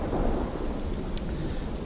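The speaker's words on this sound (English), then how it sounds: "Out in the rain." Rain and thunder roll through the DayZ video game, a dense, steady wash of rainfall under a low thunder rumble, loud and continuous without any voices.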